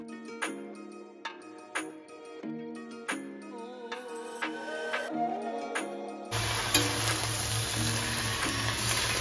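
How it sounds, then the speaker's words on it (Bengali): Crushed garlic and dried red chilies hit hot oil in a home kitchen, breaking into a steady, loud broadband sizzle with a low hum after several seconds of tonal sounds. "2টো শুকনো লঙ্কা ভেঙে দিলাম, আর তার সাথে রসুনগুলো মানে থেতলানো রসুনগুলো দিয়ে দিলাম।"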